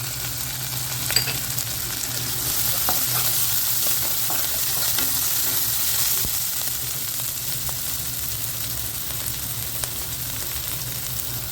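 Onion, ginger and green chilli sauté in a pan for ragi upma, giving a steady, close sizzle with light scrapes of stirring throughout and no voices.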